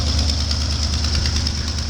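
A snow-packed Ford F-250 pickup idles just after a cold start, a steady, close, even engine drone with a slight knocking texture and an exhaust manifold leak, running alone.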